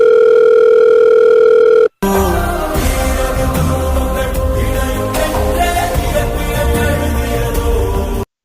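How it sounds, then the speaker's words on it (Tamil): A telephone dial tone holds steady and loud for about two seconds while a call is placed, then cuts abruptly into a dense burst of louder mixed sound. "நான் ஃபோன் அடிச்சு பார்க்குறேம்மா"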